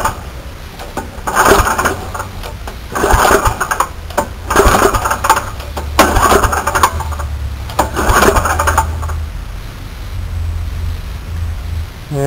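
An 8 horsepower Tecumseh kart engine is pulled over in several bursts, then fires and settles into a steady, loud close-up idle.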